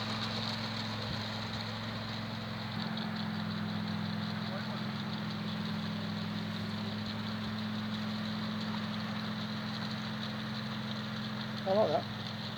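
A live steam garden railway locomotive runs with a steady, continuous mechanical hum and hiss that holds evenly throughout, with a brief clatter near the end.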